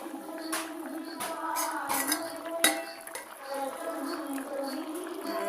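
A plate is set over a pot of simmering tuna curry with kudampuli, giving a few quiet metallic clinks and clatters over a soft bubbling background.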